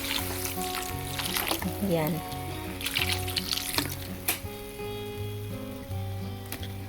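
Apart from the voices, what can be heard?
pouring a little water into the cooking pan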